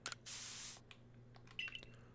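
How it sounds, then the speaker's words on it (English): A short hissing burst of stealth spray in Pokemon Legends Arceus, followed by soft scattered clicks and a faint chime, quiet overall. "And stealth spray"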